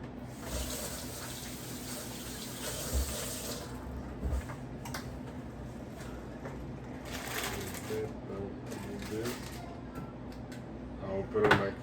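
Hands rinsed under a running kitchen tap, a steady hiss of water into the sink with small clunks and splashes, a person talking over it at moments.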